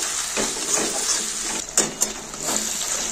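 Sliced onion is stirred and fried in oil with ginger-garlic paste while preparing Afghani chicken, a close steady sizzle broken by soft scraping strokes and two quick sharp utensil clinks.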